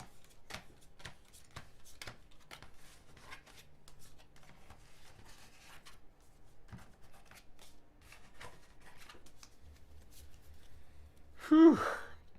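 A deck of cards is riffled and bridged during a solo tabletop dungeon game, one brief crisp burst near the end, close and fairly loud after quiet handling noises.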